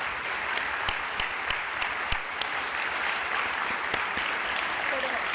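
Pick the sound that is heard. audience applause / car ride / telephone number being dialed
audience applause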